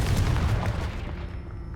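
The Confringo explosive spell goes off in the Hogwarts Legacy video game, a brief rumbling blast with low booming thuds that fade within a second or two.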